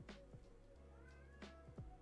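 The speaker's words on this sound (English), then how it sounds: "My cat is having a temper tantrum right outside my door" An upset house cat meows from just outside a closed door, a few short muffled cries spaced apart, faint and distant-sounding with no talking over them.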